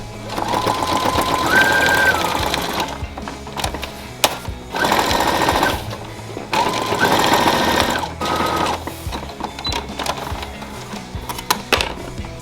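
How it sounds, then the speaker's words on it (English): Sewing machine stitching around the edge of a pro wrestling kick pad, rapid loud mechanical chatter in several runs of a few seconds each, separated by short pauses, heard up close. "We are going to sew all the way around this edge as tight as we can so that pad stays locked in."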